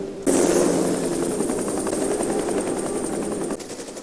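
Military helicopters lift off during an airstrike scene, their rotors starting abruptly and chopping loudly in a dense, steady beat for about three seconds before cutting off sharply.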